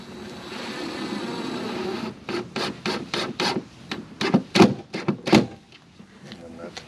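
Screws driven into 1/2-inch plywood covering the back doors of a Ram Promaster 3500 Extended van, heard as a series of short, sharp bursts after a low steady hum, close and fairly loud.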